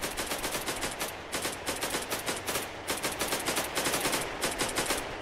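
Rapid bursts of automatic gunfire in a Roblox shooter set in Sonora, steady and loud throughout, with no voices over the shots.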